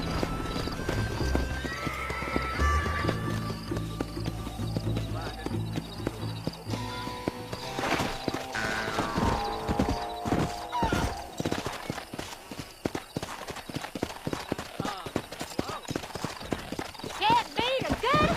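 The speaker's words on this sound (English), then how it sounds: "Can't beat a good horse." A horse in the Red Dead Redemption video game gallops with rapid, continuous hoofbeats and lets out loud whinnies near the start, with game voices talking over the running.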